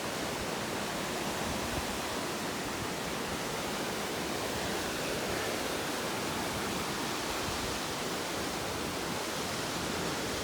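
The Medicine Tent River flowing, a steady, even rush of water heard alone without variation for the whole stretch.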